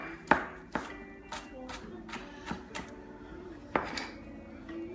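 Knife strokes cutting through a vegetable on a board for salsa, a handful of sharp knocks and clacks at an uneven pace, close and fairly quiet.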